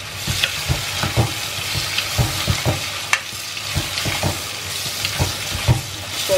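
Vegetables sautéing with salt in a pan for Tamil kara kulambu, a steady close sizzle broken by repeated scraping stirs of a spoon against the pan, with no voices.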